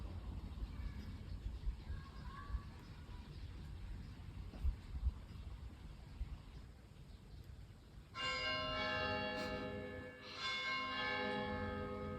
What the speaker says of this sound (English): He woke up from the church bells.